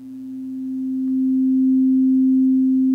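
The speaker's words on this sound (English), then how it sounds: "this is going to output a sine tone" Pure, steady sine tone from an Osmose synthesizer programmed in EaganMatrix, a single sustained note swelling gently in loudness then holding, alone with no other sound.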